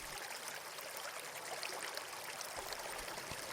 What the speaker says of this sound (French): le bruit de l'eau